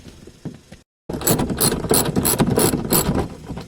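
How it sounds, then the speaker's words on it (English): A ratchet with a 14mm socket loosening a seat belt bolt in a 1999 Honda Accord: a brief pause, then rapid, close metallic clicking of the pawl cranking steadily for a few seconds. "get a 14mm socket. And loosen."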